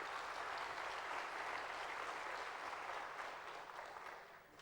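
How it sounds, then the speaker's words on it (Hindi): Loud audience applause welcoming a speaker, Prof EV Swaminathan, at a talk on setting life's compass, a thick, continuous clapping from a large crowd that tapers off over the final second. "एक बार फिर इनका तालियों से जोर से स्वागत करें।"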